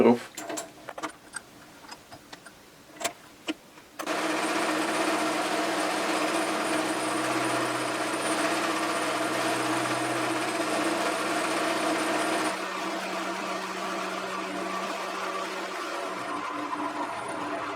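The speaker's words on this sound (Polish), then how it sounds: "5 mm na raz frezę szóstką" HSS end mill cutting into steel on a ZX7016 mill-drill, a loud steady grinding whine that starts abruptly after a few sharp clicks and knocks, then runs continuously and shifts slightly near the end.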